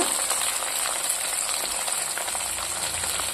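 Curry leaves dropped into hot oil with green chillies while cooking tamarind-leaf dal, giving a loud, steady, close-up frying sizzle with a bright hiss throughout, with no talking.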